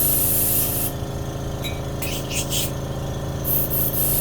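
An airbrush sprays Createx pearlized white paint onto a trout pattern, giving a close, steady airy hiss broken by short pauses and brief louder bursts, with no talk.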